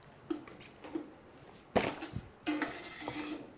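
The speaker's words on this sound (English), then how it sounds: "I'm gonna take a really sharp knife and cut the top off and cut the bottom off" A really sharp knife trims the top and bottom off a vegetable, giving a few separate sharp taps and clunks against a board with quiet gaps between them and no voices.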